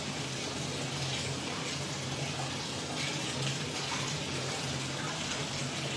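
Water runs steadily into a hotel bathtub, a constant close rushing gush with no pauses or voices.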